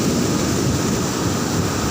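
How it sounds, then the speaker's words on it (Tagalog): Big ocean waves during a storm break in a continuous, loud, rushing wash of surf close by, with no talk heard over it. "Lalaki ng alon."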